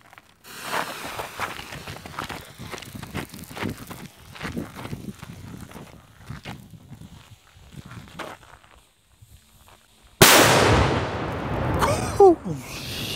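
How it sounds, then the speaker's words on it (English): A Cobra 8 firecracker goes off outdoors with a single sharp, loud bang near the end, preceded by quiet shuffling footsteps and rustling, and followed by a ringing, decaying tail. "So let's see which one bangs the loudest."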